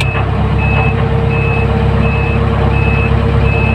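Repeated high warning beeps sound at a steady pace from a Grove GMK 5130 130-ton crane after its bypass switch is engaged, over a constant loud engine rumble.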